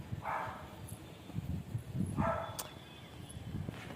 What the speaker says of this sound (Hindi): थोड़ा मेरा डॉगी भौंक रहा है